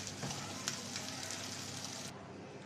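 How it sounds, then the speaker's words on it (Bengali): Pani kochu (taro) frying in a pan gives a steady, close, even sizzle that holds throughout, easing slightly softer near the end. "একদম ভাজা ভাজা করে রস টানাইয়ে ভাজা ভাজা করে নিতে হয়"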